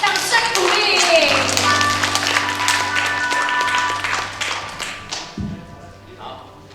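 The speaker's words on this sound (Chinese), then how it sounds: "掌声鼓励。" Applause at a church Christmas party gathering: a loud, dense burst of many hands clapping that goes on for several seconds and then thins out, with a steady tonal hum and some voices in the background.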